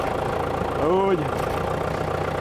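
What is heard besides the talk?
old engine idling on a loader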